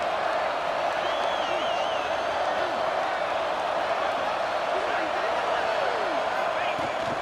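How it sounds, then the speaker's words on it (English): A large crowd at an LFL football game roars in a steady, dense wall of cheering as the defense holds in the red zone, with an announcer's voice over it. "And the crowd coming to life here, trying to help this defense down in the red zone"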